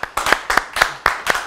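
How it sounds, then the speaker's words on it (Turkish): Studio audience applause on a TV talk show in sharp bursts of clapping, about six quick surges over a second and a half, fairly close and without talking. "Büyük bir alkış rica ediyorum bu ekibe."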